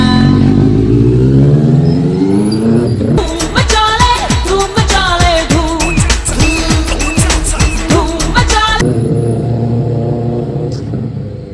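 Modified motorcycle engine revving hard up close, a loud, rapid series of throttle blips and crackling pops in the middle, settling back to a rough, steady idle before and after.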